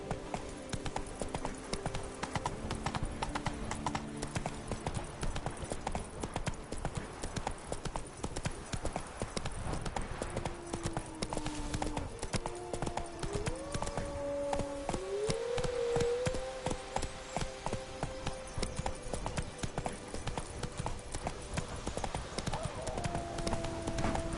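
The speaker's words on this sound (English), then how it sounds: "Whoa there, Roach. Hey-ya" A horse's hooves clip-clop at a steady, rapid trot in The Witcher video game, a continuous close rhythmic clatter. A brief voice calls out partway through.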